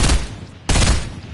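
Loud gunfire in a video game, two heavy broadband shots about two-thirds of a second apart, each ringing out with a long tail.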